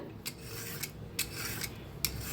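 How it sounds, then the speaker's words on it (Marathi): Ridge gourd grated by hand in a home kitchen, a steady rasping scrape repeating in regular strokes, each with a brighter gritty onset, close and alone with no talk. "आता दोडकं किसून घेऊया।"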